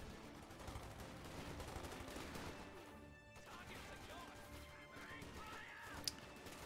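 Faint, continuous rattling machine-gun fire from an MG34 in the Company of Heroes strategy game, heard as a distant, busy battle mix of rapid bursts with one sharper crack near the end.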